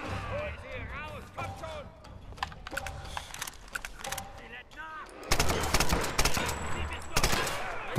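Gunfire in the Tomb Raider video game, a dense rapid burst of loud shots and crackling impacts that thickens sharply toward the end over a steady game background.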